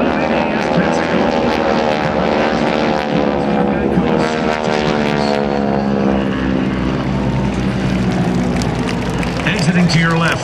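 GEICO Skytyper propeller planes drone loudly overhead at a Blue Angels homecoming airshow at NAS Pensacola, a steady engine roar with shifting pitch, under an announcer's voice.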